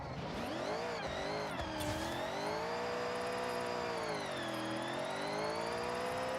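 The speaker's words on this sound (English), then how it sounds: "Doing the rolling burnouts." Engine revving with harmonics that rise and fall, plus tire squeal, from a car doing rolling burnouts in the racing video game Forza Horizon; loud and continuous with shifting pitch, no talking.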